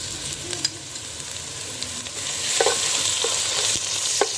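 Onions with garlic and ginger paste frying in a pan for a dhaba-style palak chana daal, a steady close sizzle with scattered scraping spoon strokes and clicks as the mixture is stirred, no talk.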